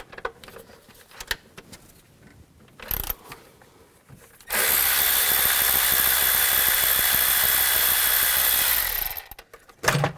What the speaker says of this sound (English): Now we're going to take these bolts out. Just use an 8mm socket.